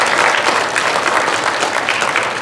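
Steady applause from a lecture audience honoring the speaker, dense continuous clapping filling the room at even loudness throughout, with no voices over it.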